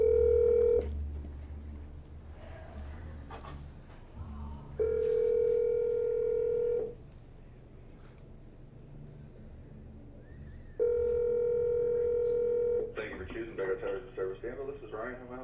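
Three long ringback tones sound on a phone line with pauses between them, then a voice answers the call.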